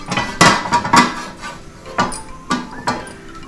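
Metal pots and utensils clank on a kitchen stove while preparing Andhra fish curry, a series of sharp close knocks and clinks at uneven intervals, loud and without voices.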